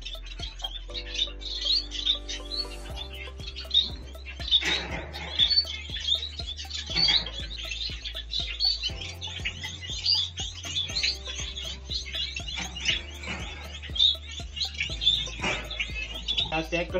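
Orange zebra finches in a breeding cage give repeated short, bright chirps throughout, with a steady low hum and mechanical noise underneath.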